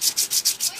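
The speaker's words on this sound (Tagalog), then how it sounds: "so pinapakinis ko ulit gamit ang liha. Number 400 na liha" A Kawasaki Barako 2 motorcycle part being smoothed by hand with 400 grit sandpaper, giving six quick, even rasping strokes close up, steady back-and-forth rhythm with no talking.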